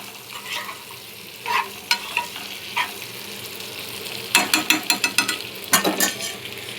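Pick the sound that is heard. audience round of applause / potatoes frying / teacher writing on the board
potatoes frying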